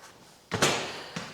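Concrete buildup is hammered off the center shaft of a Marcher concrete mixer, giving two heavy metallic bangs close together followed by a lighter third knock, each ringing briefly inside the drum.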